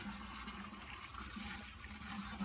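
Water rinsing debris out of the inside of a pool pump, a steady rushing and splashing flow at moderate volume without pause.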